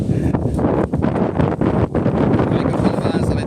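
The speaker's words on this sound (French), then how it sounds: "Vous allez recevoir le peu de vent qu'il y a ici." Outdoor wind buffets the microphone at a house-building site in a Thai village, a loud continuous rumbling roar with brief dips, no other clear sounds.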